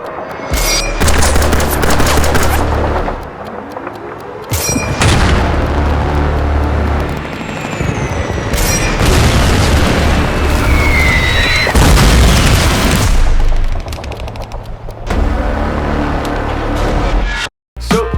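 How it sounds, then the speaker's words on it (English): Practical film explosion effect made for World War II style footage: a loud, sustained barrage of booming blasts and crackling gunfire-like bursts rolls on for nearly the whole stretch, with a brief drop near the end. "I used this exact explosion with no editing whatsoever"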